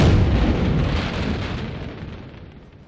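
A deep, rumbling firework boom from an anime fireworks scene in Kaguya-sama, close and loud, slowly fading away over a few seconds.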